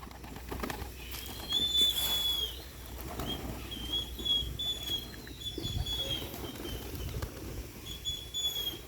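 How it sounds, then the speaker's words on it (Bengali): Giribaz tumbler pigeons flutter and flap their wings as they come down to land, with soft coos and chirps scattered among the bursts of wingbeats. "কবুতর সব আস্তে আস্তে নামতেছে"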